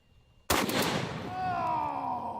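A single loud rifle shot fires a Hornady 750 grain AMAX bullet, a sharp close blast followed by a long rolling echo that fades slowly over the next two seconds.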